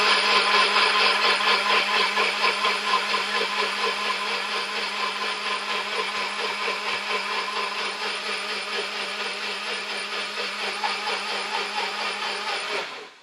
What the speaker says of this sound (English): This high power blender.